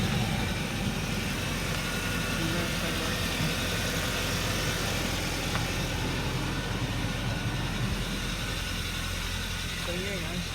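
A 2016 Kia Sportage AWD idles after a cold start on a snowy day, giving a steady, even engine drone that holds without a break. Faint background sounds and a brief murmur of voices sit underneath.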